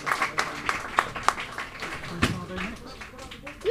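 Scattered audience applause rises at a Mind Sports Olympiad prize moment, a thin patter of claps in a room, with a voice talking over it.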